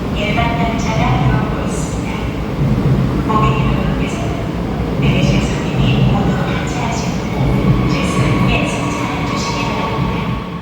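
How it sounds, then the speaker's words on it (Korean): A Gaehwa-bound local train arrives at a Seoul Metro Line 9 platform during the evening rush hour. Its deep, continuous rumble and rolling noise fill the station, with faint voices and announcement-like tones layered over it. "승강장으로 개화행 일반 열차가 들어옵니다"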